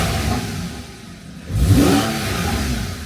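Porsche 911 of the 991 generation with fresh coil packs, engine running close by: a steady idle hum that swells into a brief rev around the middle, then settles back to a smooth idle.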